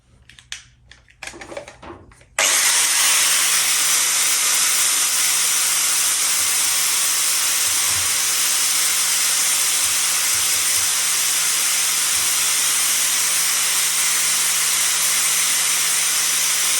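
Power tool working steadily on metal discs being cleaned up before welding, for fabricating exhaust baffles; after a few quieter knocks, a loud continuous hissing grind starts and holds unbroken, close up, with no talk.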